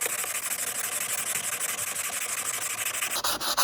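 Bondo body filler is sanded smooth on a 1989 Volvo 240 with a power sander. It makes a steady, close, raspy whirring buzz that keeps going throughout, with a brief change in tone near the end.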